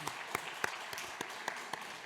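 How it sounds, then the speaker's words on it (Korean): A church congregation applauds to welcome a young soldier home on his first leave, moderate clapping with distinct individual claps standing out, fairly close. "네, 반가운 박수 한번 환영할까요?"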